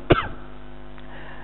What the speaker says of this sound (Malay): Yang jadi macam ni batuk je.